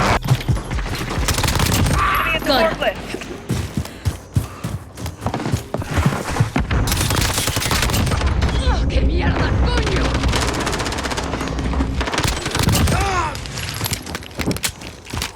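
Gunfire in the video game Modern Warfare fills the mix: loud, close rapid automatic bursts and single shots crackle almost continuously, with game sounds layered throughout.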